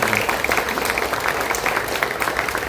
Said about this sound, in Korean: 큰 박수 한번 부탁을 드리겠습니다.